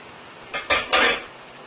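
Eggplant and shrimp stew with scallions being stirred in a pot for Guyanese balanjay, giving a short run of three close scraping, clattering strokes of a utensil against the pot, with no talk.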